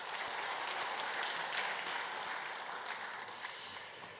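A church congregation applauds after the Immanuel choir's hymn at a Sunday service, a steady wash of many hands clapping at a fairly low level throughout, without a voice over it.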